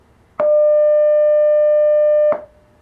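A custom electronic school bell tone played through an Atlas flange horn speaker mounted above a door: one loud, steady, pure buzzing tone lasting about two seconds, starting and stopping abruptly, alone.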